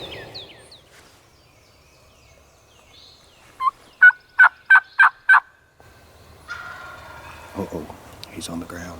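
A wild turkey gobbles in the South Carolina woods at first light, one fast rattling burst of five or six pulses at middle distance, with quiet woodland around it and faint rustling afterward.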